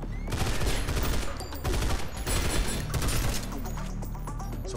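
Rapid, dense gunfire from a shield-compatible gun in the Synthetik video game, with close, continuous bursts of shots running through the whole stretch under layered game effects.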